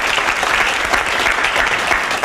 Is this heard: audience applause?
yes